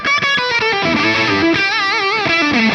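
A Hamstead Artist 60+RT guitar amp plays loud, thick overdriven electric guitar chords with delay echoing the notes, sustained and dense across the short passage with no talk.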